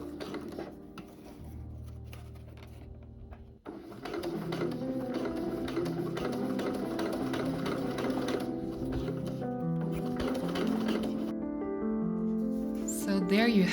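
Sewing machine stitching down the boning channels of a bra, a steady mechanical whir with a fast rhythmic needle patter that stops briefly near the start and then runs continuously, close and fairly loud, with no voices.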